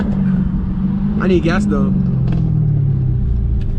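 A 730whp Dodge SRT Hellcat gives off a deep, steady exhaust rumble, close and continuous throughout, while someone speaks briefly over it.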